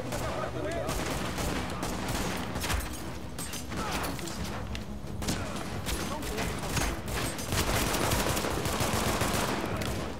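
Relentless gunfire in the video game The Division, rapid bursts and volleys packed tightly together with occasional heavier blasts, loud and continuous throughout.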